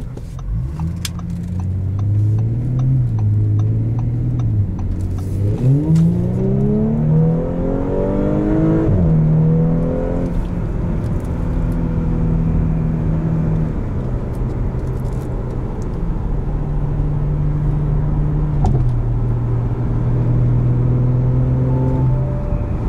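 A 2018 Audi S4 Premium Plus accelerating hard from inside the cabin, engine note climbing through rising revs with gear shifts, then settling into a loud steady drone, with road noise underneath.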